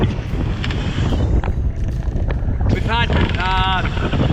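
Heavy wind roars steadily over the microphone on a boat at sea, gusting over 45 knots, with water wash beneath and a couple of brief whistling tones near the end.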